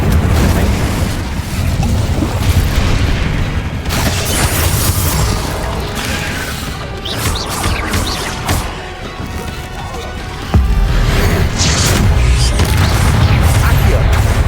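Confringo and Incendio spells blasting in the video game Hogwarts Legacy: loud, dense explosive booms and fiery crashes follow one another almost without pause, with a brief lull before a fresh heavy blast.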